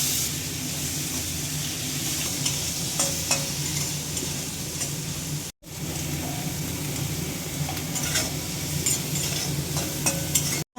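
Rice fries in a pan with cube butter, giving a steady, loud sizzle broken by scraping stirs, with a brief cut in the middle.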